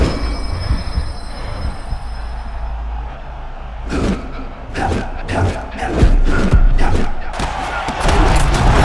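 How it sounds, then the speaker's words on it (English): A roaring arena crowd in the EA Sports UFC fighting video game swells in loud, ragged surges of cheering that build and break repeatedly. "This crowd is going sick after what they saw in that previous round."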